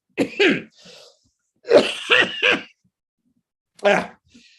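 Several short, harsh coughs in separate bursts, close and fairly loud, with silence between them.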